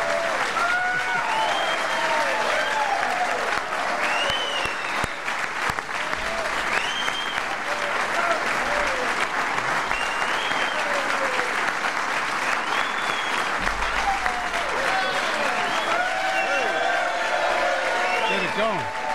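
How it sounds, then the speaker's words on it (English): Steady, loud applause fills a room during a health care bill signing ceremony, continuous clapping from an audience with scattered cheers and voices mixed in throughout. "We're going to let him clap a little bit."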